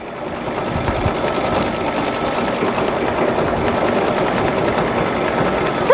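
A sewing machine stitching towel ends runs continuously and loudly, with a steady rapid mechanical chatter throughout.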